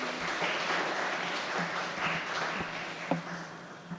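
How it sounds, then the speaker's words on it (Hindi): An audience applauds at an Independence Day celebration at an arts centre in Varanasi, sustained moderate clapping with a few louder individual claps standing out near the end. "इस शानदार प्रस्तुति के लिए एक बार फिर से जोरदार तालियां हो जाए।"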